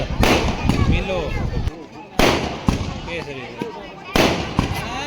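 Loud firecracker bursts go off roughly every two seconds at a wedding procession, each a sharp bang trailing into crackling, with voices and crowd noise underneath.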